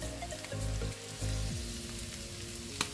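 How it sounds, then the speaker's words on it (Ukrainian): Chicken gizzards stew in a pan with carrot and onion, giving a soft, steady simmering sizzle under low humming rumbles, with a few faint pops and one sharper click near the end. "Перекладаємо нарізані шлунки в сковорідку та продовжуємо тушити разом з морквою та цибулькою."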